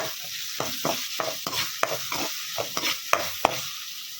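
Cumin seeds are stirred in a hot pan while cooking sorakaya charu, giving a soft continuous sizzle broken by about a dozen rhythmic scraping strokes of the spoon, close and fairly quiet.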